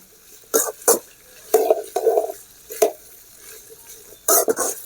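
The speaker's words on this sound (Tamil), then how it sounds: "இந்த வெண்டைக்காயை நம்ம இதில் போட்டு நல்லா வதக்கிக்கலாம். வெண்டைக்காயை நல்லா வதக்கிங்க." Okra being sautéed and stirred in a pan for Chettinad vendakkai mandi, with several sharp scraping and clanking strokes of a spoon against the pan in irregular bursts, close and fairly loud, and no speech.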